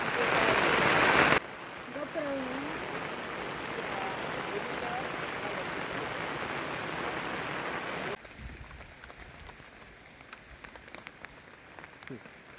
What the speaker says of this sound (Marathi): हा तुमका पाऊस दाखवू शकते मी. बघा कसलो पाऊस आहे.